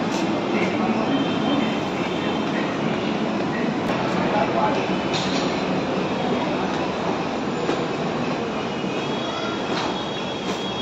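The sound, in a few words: Mumbai metro train running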